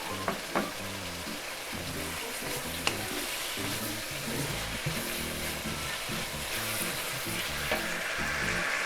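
Pork noodles fry in a hot pan as soy sauce and dark soy sauce hit the oil, giving a steady close sizzle with clinks of a utensil stirring and scraping against the pan.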